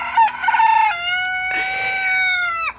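A cockerel crows close and loud in a chicken coop, one long drawn-out cock-a-doodle-doo call lasting nearly three seconds with a brief cluck at the start and no talking.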